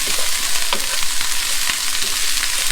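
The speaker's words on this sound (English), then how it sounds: "Keep on stirring the cabbage." Cabbage fries in a hot pan alongside pork for kalua pig, a loud steady sizzle broken by the scrape and clatter of a utensil stirring every so often, with no voices.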